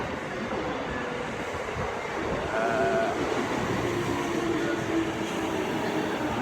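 A train in Japan gives a continuous, loud, close rumble that holds steady throughout, with faint high squeals and no talking.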